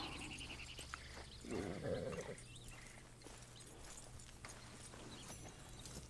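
A Shire horse in Red Dead Redemption 2 gives a brief, close snort or low blow, over a steady low ambient hum with faint hoof clops.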